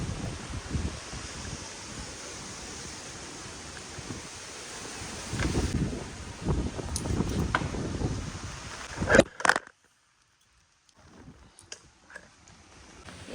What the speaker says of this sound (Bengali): যে হারে হাওয়া হচ্ছে উল্টো পাল্টা হাওয়া